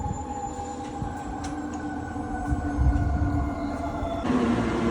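A train passes nearby with a continuous rumbling roll and a sustained whining tone over it; the noise swells toward the end as it draws closer. No one speaks.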